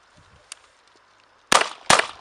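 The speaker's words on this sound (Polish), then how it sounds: "Dwa strzały, jeden po drugim." Two sharp .22 LR gunshots from an MP5 rifle in quick succession, close and loud, after a quiet stretch with a faint click.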